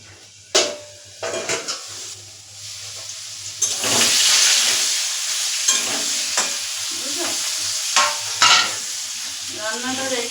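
Potatoes frying in a pan for biryani, with hot-oil sizzle and repeated clinks and scrapes of a spatula stirring them against the metal, close and alone.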